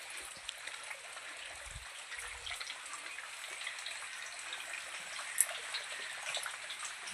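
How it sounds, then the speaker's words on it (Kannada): Rain falls steadily outdoors as a dense, even hiss of drops with a few faint low thumps, with no talking heard. "ನೋಡಿ ಹೇಗಿದೆ ಅಂತ. ಮಳೆ"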